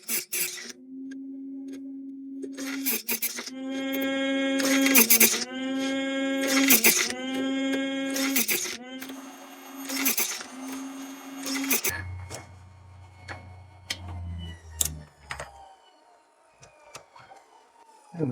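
A $35 electric chain sharpener grinds a saw chain in a series of short, loud whining bursts that rise and stop one after another, followed by softer clicks and handling noises as the tool winds down.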